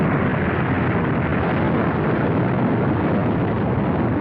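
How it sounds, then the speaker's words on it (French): A film explosion from a 1986 science-fiction movie roars as a dense, continuous blast of loud broadband rumble, unchanging and heavy for several seconds, with no voices. "il y a une explosion"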